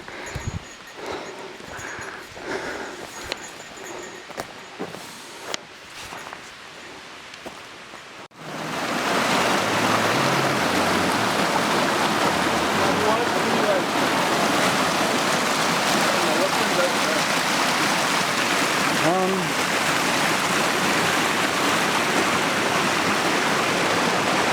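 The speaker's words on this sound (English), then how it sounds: "another creek here" Mountain creek in bear country on the way up Mount Fosthall in Monashee Provincial Park, British Columbia, a loud steady rush of water that swells in after a quieter opening and then holds, close and unbroken.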